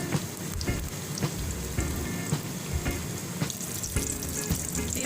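Eggplant fries in a pan with corned beef, giving a steady, dense sizzle with occasional soft stirring scrapes, close and continuous.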